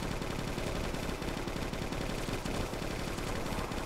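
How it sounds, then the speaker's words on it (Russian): A machine gun in the zombie shooter Left to Survive fires a continuous rapid stream of shots, dense and unbroken for the whole stretch, harsh and close with steady loudness. "Перезарядка и срочно набираем пулемет"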